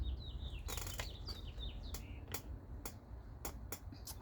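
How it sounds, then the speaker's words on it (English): Birds chirping outdoors, short high tweets scattered over a quiet low background rumble, with several sharp clicks in between. "I get the chirping of the birds"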